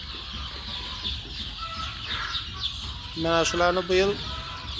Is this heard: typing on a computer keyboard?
no